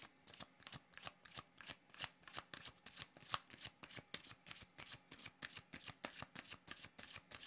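A deck of cards is shuffled over and over for a card reading, a quiet, rapid run of riffling bursts in a steady rhythm, heard alone at close range.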